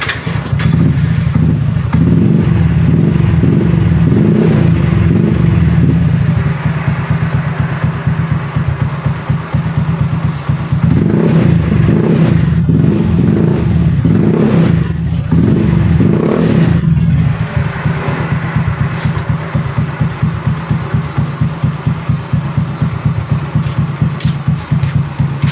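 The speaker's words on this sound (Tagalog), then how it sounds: "papaanda rin lang natin to ng konti mga boss, para umikot lang yung gear oil sa loob" A Yamaha Mio i 125 scooter engine runs steadily at idle to circulate gear oil. It puts out a close, loud low thrum with a few brief swells in revs and a faint mechanical clatter throughout.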